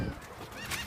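Seagulls give a brief outdoor cry close by, a short call over breezy background noise.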